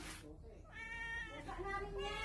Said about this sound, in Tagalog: Eh may pusa oh.